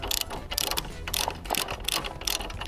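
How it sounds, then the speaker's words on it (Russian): Ratcheting wrench clicks in quick repeated bursts while loosening the wide axle nut that holds the wheel to the frame of an old Soviet-era childhood motorcycle, close and fairly loud, with no talk. "Теперь откручиваем широкую гайку, которая держит само колесо на раме"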